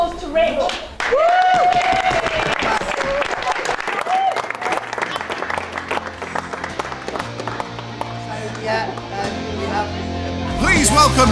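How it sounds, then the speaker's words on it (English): An audience at a charity show breaks into applause and some shouts, loud and sustained, with a voice rising over the crowd and a low musical backing entering partway through. "Please, round of applause to Rick."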